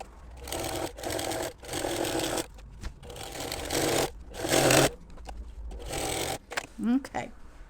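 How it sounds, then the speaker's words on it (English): A sewing machine stitches a quilt block in a series of short whirring runs separated by pauses, close and fairly quiet, with a voice speaking briefly near the end. "I'm just going to start stitching just inside that serging line, or about 1/8 of an inch away."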